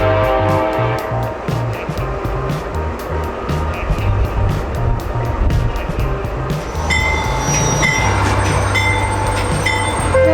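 A San Luis & Rio Grande Railroad passenger train backs up along the track to couple with another train at a station, giving steady rumbling and clanking wheel noise with a brief high squeal near the end.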